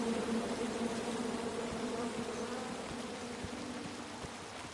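Angry bees from a tree swarm in the video game King's Quest, a dense, continuous loud buzzing drone that holds steady throughout and fades slightly toward the end, with no speech.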